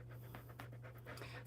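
A dog panting close by, quick rhythmic breaths repeating steadily over a low constant hum, with no talking.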